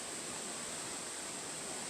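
Wolgwang Falls in Songgye Valley, a strong stream of water plunging steadily, giving a dense unbroken roar that stays even and full throughout.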